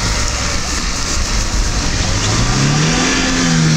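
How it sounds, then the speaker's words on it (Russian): An off-road car, likely among a Niva, UAZ or Duster, revs hard and loud to accelerate, with a rising engine note over constant rough mechanical noise; voices are faintly present. "Короче, разгон делаем большой. Поехали!"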